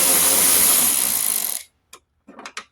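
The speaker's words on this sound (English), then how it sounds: "using an extension, an adapter, and a 10 millimeter socket on the electric ratchet" An electric cordless ratchet fitted with an extension, an adapter and a 10 mm socket turns a bolt on a 2008 Nissan Altima headlight, whirring loudly for about a second and a half before stopping, followed by a few faint clicks.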